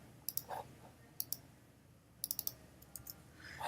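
Mouse clicks on a computer, used to select text: several sharp clicks, some in quick pairs, close and fairly crisp over a quiet background, with no talk.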